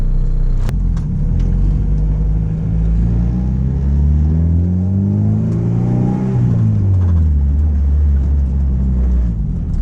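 A Honda Integra with a built block and bigger turbo revs up and back down, giving a loud, close engine drone that rises in pitch and falls again, with a rattle buzzing over it. No one speaks.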